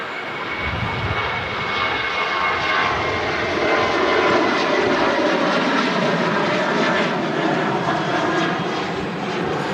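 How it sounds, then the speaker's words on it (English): A Ryanair Boeing 737 jet takes off from Manchester Airport, bound for Gothenburg, its engines making a sustained, broad roar that holds steady at moderate distance for the full length, with no talking. "And that's Ryanair off to Gothenburg."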